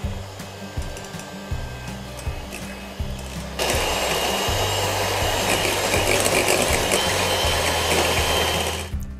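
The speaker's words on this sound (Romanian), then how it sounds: "Mixez gălbenușurile cu zahărul și o să-l adaug treptat." Electric hand mixer whirring steadily as it beats egg yolks with sugar, loud and continuous, growing louder and brighter after a few seconds and then cutting off abruptly.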